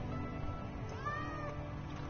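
A cat meows once in the Final Fantasy 7 Remake video game, a faint short call sitting in the middle of a steady hum of game background sound.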